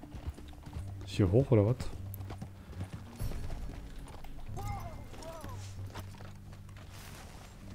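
Horse hooves clip-clopping in Red Dead Redemption 2, rhythmic game hoofbeats beneath a player's voice talking, with louder moments early on.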